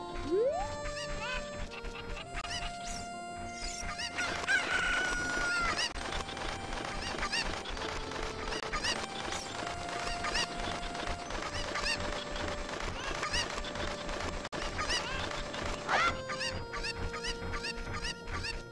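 Chickens cluck and squawk in the Zelda Ocarina of Time video game, repeated bird calls over a busy backdrop of game music and effects at moderate level.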